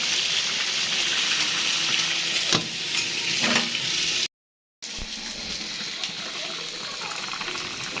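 Garlic and onion paste dropped into hot oil in a frying pan, a loud steady sizzle with stirring scrapes and brief splashy bursts, continuing after a short break.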